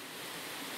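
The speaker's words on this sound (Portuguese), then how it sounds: "Viemos numa cachoeira, dia de chuva" Steady broadband roar of a waterfall on a rainy day, continuous and close, with no voices over it.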